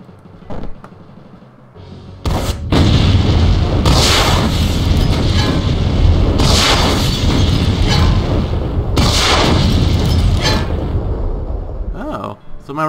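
Rocket launcher blasts in the Brutal Wolfenstein game, three loud booming bursts spaced a few seconds apart over a continuous roar of game noise and rumble.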